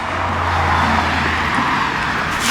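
A car on its first test drive after a gear oil change in its 8.8 Traction-Lok differential: a steady, loud, close engine and road rumble with a low drone, holding constant throughout.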